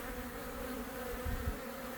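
Honeybees returning to the hive with orange pollen make a steady, close buzzing drone with a brief low thump near the end.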